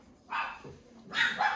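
A dog barks indoors in a couple of sharp, close barks that rise loudly over a quiet room.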